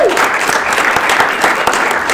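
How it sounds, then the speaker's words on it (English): A conference audience breaks into steady, dense applause, many hands clapping together loudly and evenly throughout, filling the room without pause. "Round of applause for them."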